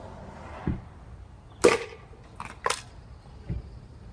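A pump-action Nerf shotgun loaded with half darts fires and reloads in a few sharp, close pops and mechanical clacks, spaced over a few seconds in an otherwise quiet room.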